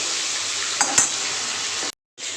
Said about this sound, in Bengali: তো চলো মাছটা ভেজে নিই।